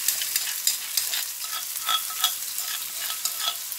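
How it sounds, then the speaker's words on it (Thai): Pounded chili and garlic are stir-fried in vegetable oil in a pan, with a bright continuous sizzle and a regular scrape and clatter of the spatula stirring. "ป้าก็จะใส่น้ำมันพืชลงไปนะคะแล้วก็ตามด้วยพริกกระเทียมนะคะที่เราโขลกกันไปเมื่อกี้นะคะ"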